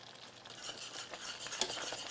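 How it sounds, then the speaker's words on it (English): A molasses mixture for gingerbread cookies bubbles in a pot while being stirred, a soft, close scraping and bubbling texture with faint sizzle, steady and quiet with no voices. "I'm just going to let it boil for about 10 seconds."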